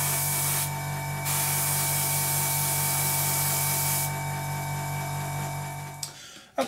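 A continuous hiss of an airbrush spraying paint onto a Seafire scale model, close and steady, with a faint background hum and short breaks in the spray before it stops.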